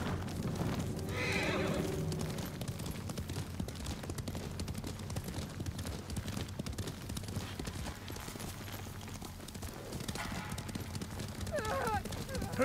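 Horses in the Ghost of Tsushima video game neigh and clop along a road in a samurai-era setting, hooves beating steadily under whinnies near and further off, with faint voices and a soft score beneath.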